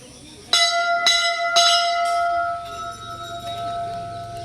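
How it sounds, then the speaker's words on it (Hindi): A bright metal temple bell is struck three times in quick succession at a Siddh temple in Uttarakhand, each ring overlapping and leaving a long shimmering hum that fades beneath faint background noise. "बजाओ घंटी।"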